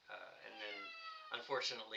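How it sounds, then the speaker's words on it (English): A pet cat named Mr. Brimstone gives a couple of clear, close, drawn-out meows, heard alongside a person speaking. "That's my cat, Mr. Brimstone, who feels like he has to be part of every conversation I'm having"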